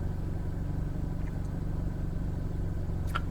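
Hyundai Veloster N being driven with rev matching switched on, a steady low engine rumble from inside the car, with a brief faint high click near the end.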